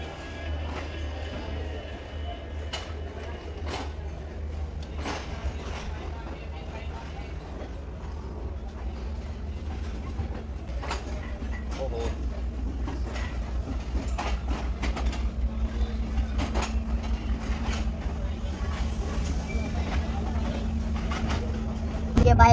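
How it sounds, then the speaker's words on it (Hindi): Interior rumble of a Green Line business-class train in Pakistan pulling away and running, a steady low drone with rhythmic clickety-clack building over time, while people talk nearby. "और अभी ट्रेन स्टार्ट हो गई।"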